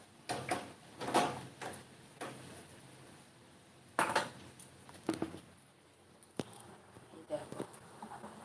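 A spoon stirring jaggery in a cooking pot on a home stove for semai: scattered metallic clinks and scrapes against the pot come in irregular bursts with quieter gaps between them.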